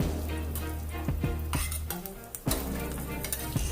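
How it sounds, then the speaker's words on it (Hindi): Half a spoon of fennel seeds and a spoon of mustard seeds frying in hot oil in a pan for tempering, a steady crackling sizzle broken by a few metal clinks of stirring. "एट लास्ट हम लोग आधी चम्मच सौंफ और एक चम्मच मस्टर्ड सीड्स का मिश्रण किया हुआ एट लास्ट इसमें"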